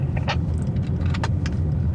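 Sports car engine, an Audi RS7 or BMW M850i at a drag race, holding a steady deep idle-like rumble for two seconds with a few faint clicks and rattles over it, no talking.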